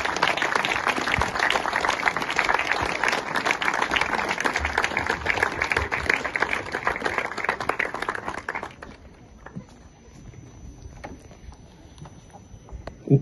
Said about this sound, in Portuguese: Uma salva de palmas para o Orlando Martins, que é o artista aqui